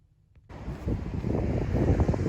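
Strong cold wind buffeting the microphone in a loud, rumbling, gusty roar that starts abruptly and continues without any talking.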